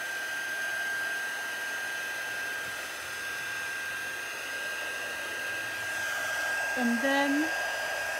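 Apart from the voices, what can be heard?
embossing heat tool on high setting melting embossing powder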